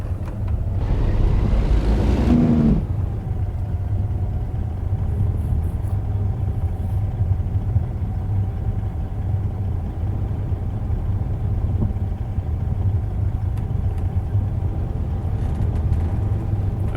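Truck tractor diesel engine idling steadily in American Truck Simulator while logs are loaded, a low continuous rumble after a brief louder burst at the start, with no talking.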